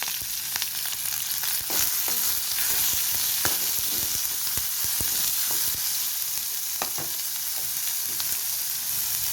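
Steady, loud sizzling of tomatoes and green chillies frying in hot oil with popped mustard seeds, with occasional crackles and pops, close up and continuous with no voices.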